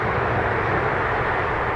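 Delta airliner rumbling on the runway at Dublin Airport, a steady broad roar of jet engines heard at a distance.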